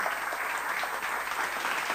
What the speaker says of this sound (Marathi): मित्र एकदा भाऊंसाठी जोरदार टाळ्या झाल्या पाहिजे की